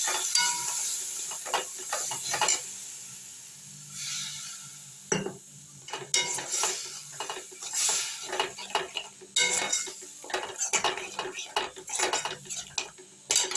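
Spices with a splash of water being stirred in a cooking pot for a jackfruit seed curry, with repeated scraping and clinking of a spoon against metal over a light sizzle.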